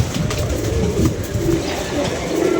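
Domestic pigeons cooing in a rooftop loft, soft low repeated coos close by over a steady murmur of background noise, with no talking.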